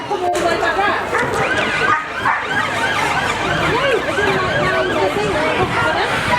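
A German Shepherd police dog barks during a police open day demonstration. Loud, repeated barking blends with a wailing siren and busy outdoor background noise.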